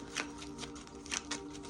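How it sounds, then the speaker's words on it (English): Tarot cards are shuffled by hand close up, giving a few quiet riffling bursts with brief pauses between them, soft and intimate with no talking. "sometimes I get quiet when I shuffle"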